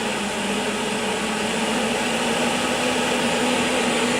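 A steady, loud roar from an ultralight portable camping stove burning on a high flame with its lid on, a broad continuous rushing hiss that stays constant throughout, with no speech.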